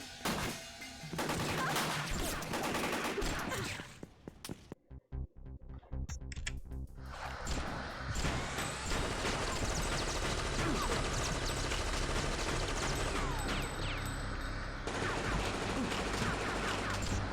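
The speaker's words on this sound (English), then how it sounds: "Anno, stop shooting the wall." Gunfire strikes a wall in the video game Fear Effect: long, dense bursts of rapid shots, loud and close, broken by a short lull before the firing resumes and keeps going.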